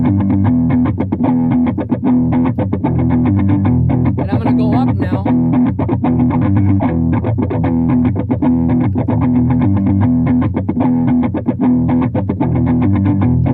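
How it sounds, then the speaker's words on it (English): Heavily distorted electric guitar played through a Headrush Flex Prime using a Bogner Ecstasy amp model, with reverb added to the mix. It is loud and continuous, with sustained, driven chords and notes throughout. "So you get more of that reverb"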